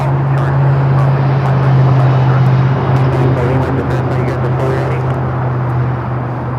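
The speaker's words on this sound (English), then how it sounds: "We got that One World Japan Airlines Streamliner making that turn onto Bravo" A Japan Airlines airliner taxis and turns onto a taxiway at LAX, its engines holding a steady, loud droning hum with a strong low tone throughout, while faint voices murmur in the background.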